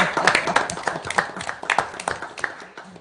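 A scattering of hand claps from a small group at a city council meeting in Rouyn-Noranda, brief and fairly close, fading toward the end.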